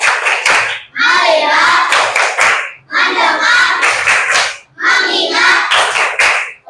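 Schoolchildren in a classroom clap in rhythmic counted bursts during an ice-breaking game, their chanting voices loud and mixed with the claps, in three long groups separated by brief pauses.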